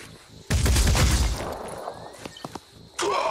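A gunshot in Phoenix Point, a loud, close burst of rapid firing that trails off, then a few lighter thumps and a second burst at the end.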